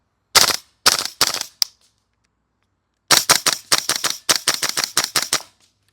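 A Classic Army URGI MK16 airsoft gas blowback rifle fires sharp, loud close shots: three quick single shots with a short extra clack, a pause, then a rapid string of about a dozen shots ending as the bolt locks back.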